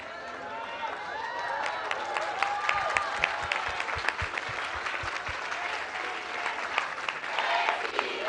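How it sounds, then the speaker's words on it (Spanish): A welcoming round of applause greets the governor at a Salud Casa por Casa health program assembly in San Pedro Tlaquepaque, Jalisco. Steady, moderate crowd clapping continues throughout, with voices chattering and calling out underneath. "También vamos a darle un aplauso de bienvenida."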